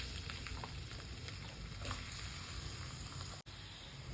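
Onions frying in about three spoons of hot oil in a pan, a steady faint sizzle with soft crackle throughout and a brief dropout near the end, no talking.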